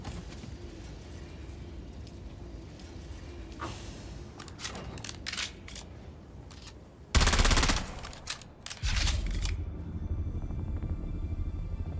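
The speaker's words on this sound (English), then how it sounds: "Artisan Disruptor uses light darts." Artisan Disruptor, an SMG that fires light darts in a sci-fi video game, heard as scattered shots and then a loud, sustained burst of rapid fire and a heavy rumble of impact.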